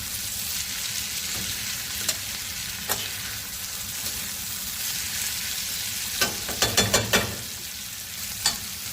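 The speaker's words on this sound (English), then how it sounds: "So we continue frying until our tomatoes are well done." Steady sizzling of tomatoes and kapenta fish frying in a pan, with scattered scraping and stirring clicks, growing busier near the end; no talking.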